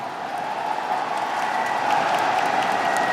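An esports arena crowd at IEM Dallas 2024, before a FaZe Clan versus G2 Esports playoff match, cheers and applauds in a loud, dense, continuous roar that swells slightly toward the end.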